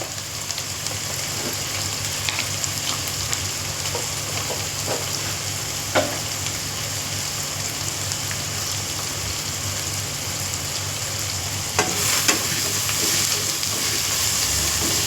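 Sliced onions sauté in a pan for a chicken curry, a steady broadband sizzle running throughout with occasional sharper crackles and stirring clicks, close and fairly loud, with no talking.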